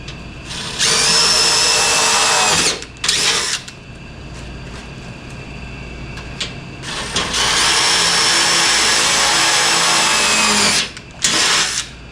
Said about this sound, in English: I'll drill some down to go through the bottom channel.